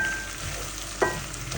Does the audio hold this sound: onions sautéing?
yes